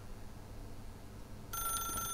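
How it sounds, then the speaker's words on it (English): A telephone rings in the video game The Stanley Parable, its bright electronic tone starting abruptly partway through and repeating over a low ambient hum. "If you can truly place your faith in another, then pick up the phone."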